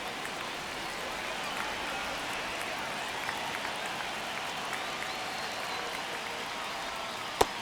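Stadium crowd noise in an MLB 25 baseball video game, Oakland Athletics vs. Houston Astros, a dense steady roar of applause and cheering throughout the ninth inning of a one-run game.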